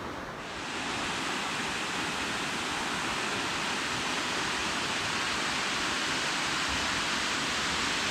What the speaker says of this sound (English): Yesterday we went for a walk up to the Wentworth waterfalls.